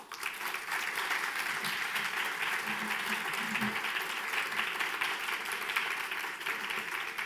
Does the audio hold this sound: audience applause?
yes